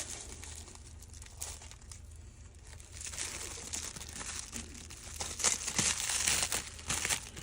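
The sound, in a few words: unwrapping packaging of a replacement HP M527 ADF part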